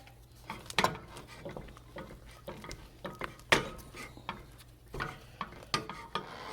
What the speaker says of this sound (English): Cooking it and stirring it